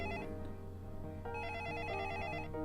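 A telephone in the video game Little Red Lie rings with repeated electronic bell trills, a steady ringing pattern heard fairly faintly and alone.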